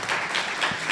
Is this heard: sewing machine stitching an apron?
no